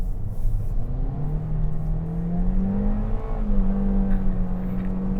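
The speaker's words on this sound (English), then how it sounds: "These tires must be really poor if I'm spinning the wheels at 45 miles an hour." A 2025 Toyota Corolla FX sedan accelerating hard with its wheels spinning, heard from inside as a steady, fairly loud engine drone that climbs in pitch and then settles, with no talking.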